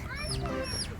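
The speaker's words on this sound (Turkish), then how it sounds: "Nereden geliyor bu civciv sesi?" High, thin chirps from chicks rise and fall over a low background hum, heard at close range, with a few quick calls in a row.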